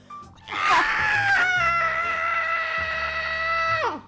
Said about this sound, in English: That was actually a really good scream.